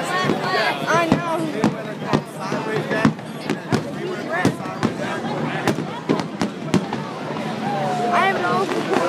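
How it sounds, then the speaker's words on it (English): Fireworks burst over a NASCAR racetrack after a night race, a steady series of sharp bangs and crackles at varying distance over crowd noise and someone talking. "Fireworks going on now over the track."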